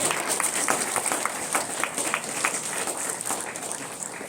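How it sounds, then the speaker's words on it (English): An audience at a rehabilitation center program in Meghalaya claps for a performer, a moderate, steady patter of applause with distinct individual claps heard throughout. "Big round of applause for Marvin."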